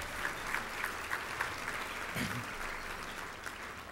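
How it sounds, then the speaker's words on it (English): Audience applause for meal sponsors at a conference opening session, a faint, steady patter of clapping from a large room, even and unbroken across the moment. "Let's give them a round of applause."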